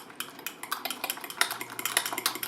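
Eggs for a Denver omelette being whisked with a fork in a pan, giving a quick series of light metallic clinks and taps close by, fairly faint, with no talking.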